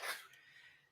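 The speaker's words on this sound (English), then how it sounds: "Bless you, whoever's sneezing." A single quiet sneeze bursts out at the very start and fades quickly into faint room noise, thin and somewhat distant, as if heard over a call.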